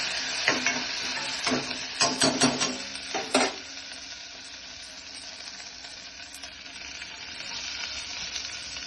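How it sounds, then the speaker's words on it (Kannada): Green chillies and chana dal with curry leaves frying in a pan for hesar kalu palya, a bright sizzle with several sharp stirring scrapes early on, then a calmer steady hiss. "ಇವಾಗ ಮೆಣಸಿನ್ಕಾಯಿ ಹಾಕೋಣ."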